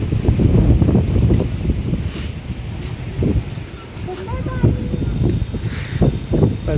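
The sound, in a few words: strong wind blowing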